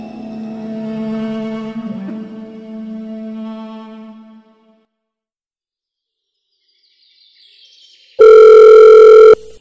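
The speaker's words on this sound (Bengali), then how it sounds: "আজ সকালে একটা ফোন এলো।" Telephone ringing in a Bengali detective audio story: a loud, sustained electronic ring tone bursts in near the end after softer tonal music fades to silence.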